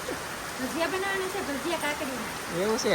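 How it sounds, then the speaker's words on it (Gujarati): Rain pours down at a fair, making a steady broadband hiss that runs under close, continuous talking throughout. "વરસાદ આવે છે હવે આપણે વરસાદ આવી છે"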